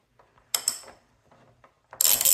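Wrench working the side case mounting bolts on a 2025 Triumph Tiger 900 Rally Pro, a few short metallic clicks and ratcheting bursts separated by pauses, close and fairly loud, with a bright clatter at the end.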